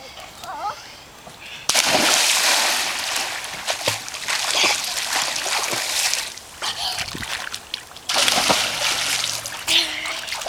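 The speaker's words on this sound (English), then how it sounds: "Nice dive." A child dives into a backyard pool, making a loud splash followed by churning, sloshing water and drips, with voices of children and an adult nearby.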